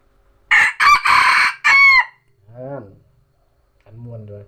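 A rooster gives one loud, close crow in several strained bursts, followed by two quieter, lower calls after short pauses.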